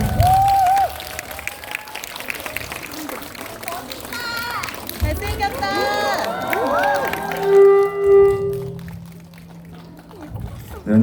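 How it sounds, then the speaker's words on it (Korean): Applause from a cinema audience greeting the film's team on stage at a screening, fading in and out under an announcer's amplified voice and crowd chatter, with cheering rising midway. "박수 많이 쳐주세요."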